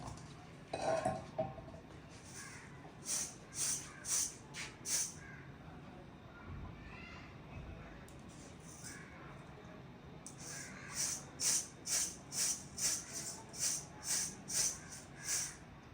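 Rice being washed in a pot in a village kitchen, with repeated metallic clinks and scraping of pot and utensils in two bursts, the second a steady rhythmic series of knocks, fairly near with light background hiss.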